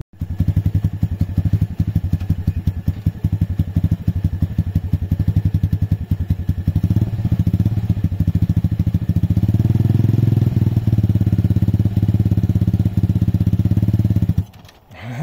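Motorcycle engine ridden by a learner, a loud close idle that thumps steadily, then rises in sustained revs before cutting off near the end.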